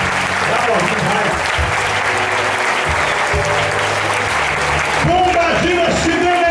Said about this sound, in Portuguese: Vai aplaudindo, vai.